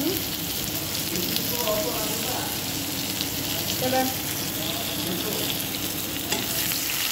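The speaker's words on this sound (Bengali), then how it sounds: "পেঁয়াজ দিয়ে ভালোভাবে নেড়ে চেড়ে এগুলিকে লাল করে নেব" Onions sizzle in hot oil with garlic and ginger paste in a pan, making a steady dense frying hiss with stirring strokes throughout, close and fairly loud.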